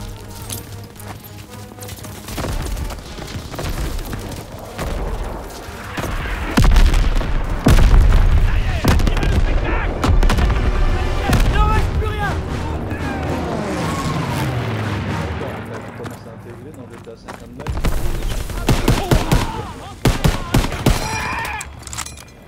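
Artillery barrages and gunfire from the Call of Duty WW2 video game, with booming blasts and crackling volleys rolling through a loud battle scene, mixed with game voices and chaotic action.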